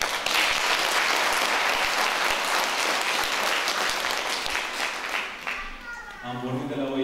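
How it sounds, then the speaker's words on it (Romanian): Audience applause at an exhibition event on Palm Sunday at Straja, a dense, loud wash of many hands clapping that thins out near the end as a voice begins speaking. "alături de dumneavoastră să-i aplaud"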